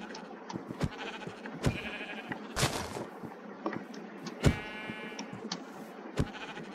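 Repeated sheep bleats from Minecraft, several short loud calls spaced irregularly over a quiet background hiss, with some clicks between them.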